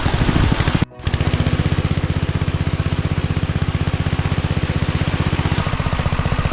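A new water pump's small engine runs steadily below full throttle, a loud, close, evenly pulsing drone that cuts out for a split second near the start and then resumes without pause.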